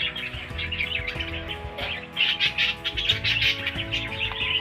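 Pet birds, including a pure hen and a pastel yellow bird, chirping in a cage, with repeated bright tweets and calls over a low background rumble, close and continuous.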